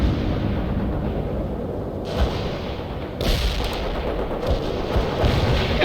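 Gunfire and heavy explosions from the World in Conflict PC war game, with a dense rumble of shots and two sharp, loud blasts standing out partway through the battle noise.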